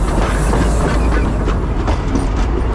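A tourist train on the Ambarawa–Tuntang line near Rawa Pening rolls past close by, its wheels clattering over the rails in a steady rumbling clickety-clack.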